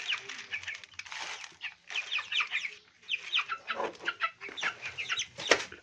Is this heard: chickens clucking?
yes